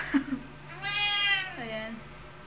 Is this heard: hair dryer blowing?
no